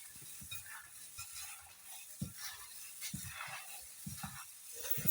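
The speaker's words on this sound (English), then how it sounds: "Then now I'll mix up everything together." Egg, beef ball mixture with onions and turmeric is stirred together in a bowl, giving faint, intermittent soft scraping and squelching strokes at close range.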